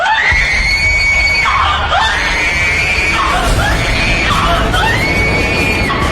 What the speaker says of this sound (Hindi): नैना के कमरे से उनको जोर जोर से चीखने की आवाजें आई।